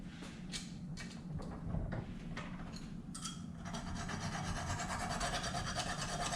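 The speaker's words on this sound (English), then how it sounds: "I'm going to file that little burr off." A hand file rasps a small burr off a Ducati Testastretta valve part, several short scraping strokes followed by a longer steady rubbing rasp, close and fairly quiet with no voices.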